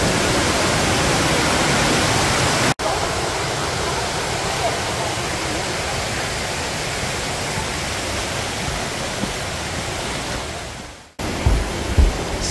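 Rushing water pours continuously nearby, a dense broadband roar of a mountain stream above a waterfall, with a brief break and a few thumps near the end.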